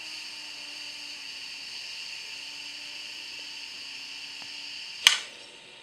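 An Instant Pot float pin drops with one sharp click, cutting into a steady steam hiss that fades a little afterward.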